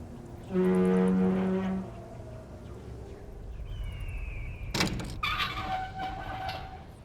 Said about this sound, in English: Cast Alohomora at the door and it will open up.